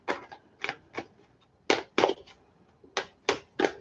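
Deck of tarot cards being shuffled up close, a run of quick crisp riffling bursts in short uneven groups with brief pauses between them, and no talking.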